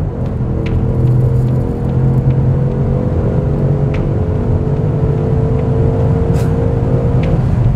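A 2016 Audi S7 engine pulls hard with a low, steady rumbling drone and rising harmonic tones, heard loud and close from inside the car.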